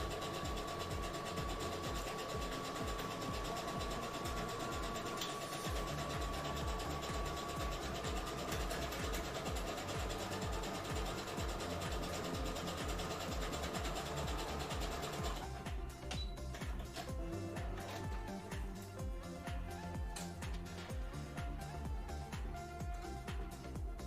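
A sewing machine runs steadily at a cosplay crafting table with a continuous, busy mechanical whir and rattle. The tone shifts partway through as the stitching carries on without a break.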